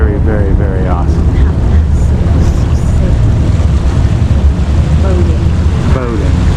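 Motorboat running over water off Seward, Alaska, a steady loud rumble with wind buffeting and sloshing waves throughout, faint voices mixed in.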